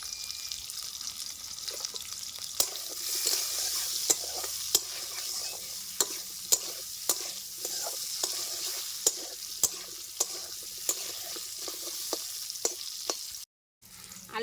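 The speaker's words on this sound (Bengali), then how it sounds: "তেল গরম হয়ে গেছে আলুগুলি বেজে নেবো" Potatoes frying in hot oil with turmeric and salt, giving a steady close sizzle. A spatula taps and scrapes the pan at a fairly regular pace throughout, with no speech and a brief dropout near the end.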